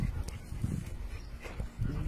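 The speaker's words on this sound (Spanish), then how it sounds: "Miren allá cómo está socializando con los demás perros." Dogs at an animal shelter make brief whimpers and soft barks up close over a rumbling background, with a faint voice at times.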